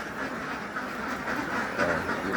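A flock of egg-laying ducks on a farm quacks in a continuous, close chorus of overlapping calls, with no one speaking.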